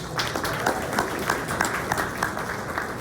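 A crowd applauds a local business, C4 Effects, at a community morning event honoring police and fire, with dense, fairly soft clapping heard from a distance at a steady level.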